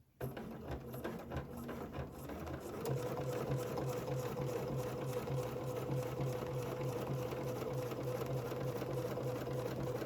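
Sewing machine stitching steadily during ruler quilting with the feed dogs down, a close, even whirring hum that runs continuously after a brief start.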